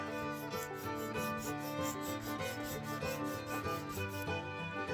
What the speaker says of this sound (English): Okay, just a little bit more sanding.